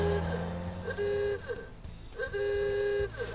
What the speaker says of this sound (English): Stop honking your frickin' horn